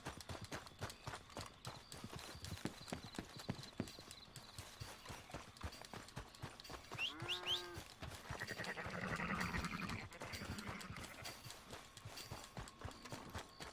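Steady, rapid clip-clop of hooves at a gallop throughout in Red Dead Redemption 2, with a brief horse whinny partway through over a continuous rumbling background.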